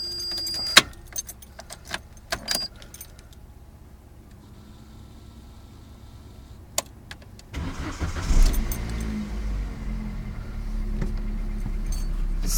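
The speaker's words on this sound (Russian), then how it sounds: "Запуск двигателя на холодную." A car engine cranking and catching on a cold morning start, preceded by a few sharp clicks and key jangles, then settling into a loud, steady near rumble with no talk.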